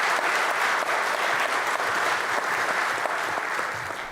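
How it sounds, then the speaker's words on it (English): Dense, steady applause from a full audience honoring Global Energy Prize laureates at the 2023 announcement ceremony in Kuzbass, sustained throughout and tapering slightly at the end. "Let's please give them a round of applause."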